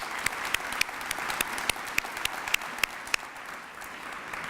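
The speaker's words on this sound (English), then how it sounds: "Let's give them a round of applause." An audience applauding at an awards ceremony, sustained hall clapping with sharper individual claps standing out, continuous and moderately loud before gradually thinning.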